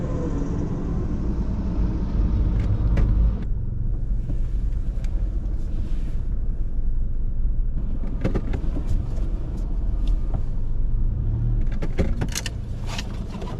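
A car rumbles at low speed while being turned around, with a steady engine and road drone and a few short clicks and knocks, no talking.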